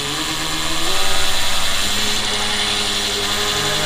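A loud impact drill whirs continuously up close, priming the oil pump of a 427ci LS engine, its motor pitch holding steady with a slight wobble, and nobody speaks.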